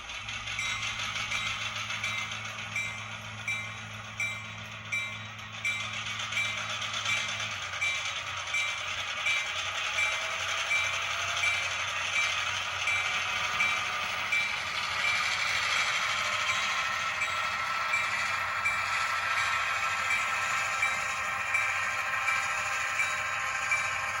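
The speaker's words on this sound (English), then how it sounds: "I'll stop talking and we can listen to the engine." A small model locomotive engine runs continuously with a steady whirring hum and rhythmic clicking over the track, close by and fairly even in volume.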